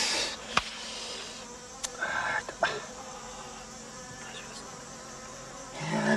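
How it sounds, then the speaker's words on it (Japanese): Stinging insects in the Amazon buzz close by in a thin, steady drone, with a few sharp ticks and knocks scattered through. "アマゾン特有のところ構わず刺す虫"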